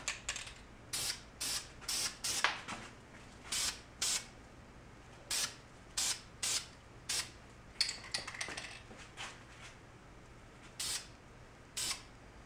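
Short bursts of aerosol spray paint applied in thin coats to motorcycle brake parts during a brake line and master cylinder job, about fifteen hissing blasts in an uneven rhythm, close and fairly quiet, with no talking.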